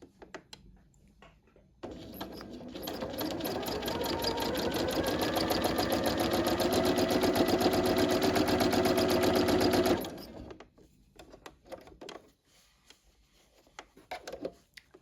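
A sewing machine stitches fabric pieces for heart-shaped greeting cards, a loud close motor whir that starts abruptly, runs steadily for about eight seconds, then stops, leaving quiet handling sounds.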